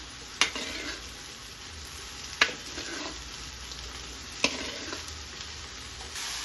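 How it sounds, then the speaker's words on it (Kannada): Soaked okra frying in oil with fried tomato and onion, a steady soft sizzle broken by three sharp utensil knocks against the pan at even two-second intervals. "ಉದ್ದಿಟ್ಕೊಂಡಿರುವಂಥ ಬೆಂಡೆಕಾಯಿ ಸೇರಿಸ್ಕೊತಾ ಇದ್ದೀನಿ."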